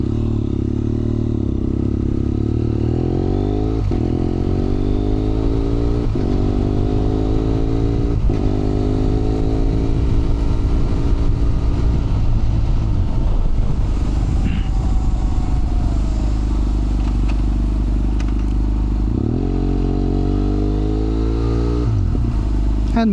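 BMW F800R motorcycle ridden through Miami traffic with a HealTech quickshifter, engine droning loudly and steadily, revs climbing then dropping sharply at each quick gear change, several upshifts in sequence with wind and road noise throughout.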